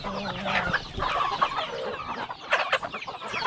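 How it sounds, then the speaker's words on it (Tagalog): Farmyard chickens cluck and murmur close by in a continuous busy chorus, with scattered louder calls rising over the flock. "At yung mga manok natin dito."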